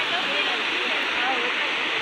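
A village waterfall pours down in a steady, dense hiss of rushing water, continuous and fairly close, with no talk over it.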